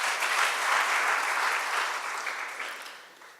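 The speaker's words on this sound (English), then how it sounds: "Kindly give them a round of applause." An audience at a school debate between Moi Forces Academy and Huruma Girls High School claps in a dense, sustained round of applause that slowly fades toward the end.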